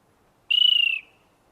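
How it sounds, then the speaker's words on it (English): A single clear whistled note from a Rufous Antpitta of the Periha population, held for about half a second, slightly falling at the end, alone against near silence. "Rufous ant pitta, Periha."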